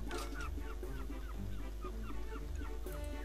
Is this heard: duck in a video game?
yes